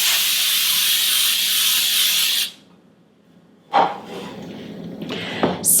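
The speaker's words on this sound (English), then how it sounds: "I'm just using the cooking spray that has the flour in it." A long steady hiss of flour-added cooking spray onto loaf pans for about two seconds, then a pause, followed by short clatters and shorter spray bursts nearby.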